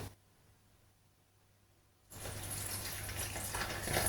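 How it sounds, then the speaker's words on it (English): Water poured into crumbly chapati flour for dough, starting after a quiet pause as a steady, close splashing gush that continues to the end with no talk. "Make a hole in the middle and you're going to add water a little at a time."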